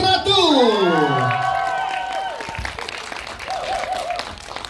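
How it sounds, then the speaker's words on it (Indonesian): A crowd breaks into applause with cheering and whoops, loud at first and slowly tapering, while voices call out over the clapping. "Langsung saja tepuk tangan untuk Hadra Daeng Ratu."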